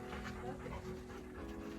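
Dogs pant rapidly and rhythmically up close in a shady outdoor art spot near Slab City by the Salton Sea, quick breathy puffs repeating alongside a faint whimper, with soft background noise.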